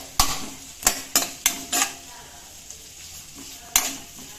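Chopped onions fry in hot oil in a pan for Tulu-style chicken liver gaasi, a soft sizzle broken by six sharp metal clanks as a spoon stirs and scrapes, spaced irregularly.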